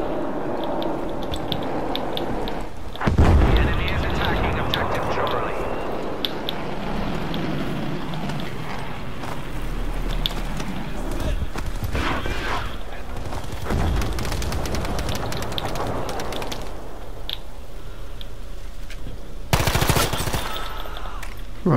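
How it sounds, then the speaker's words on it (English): Automatic gunfire rattles in Battlefield 5 on the Solomon Islands conquest map, dense bursts and scattered shots with occasional booms layered over a loud, busy battlefield din. "Where am I getting shot from?"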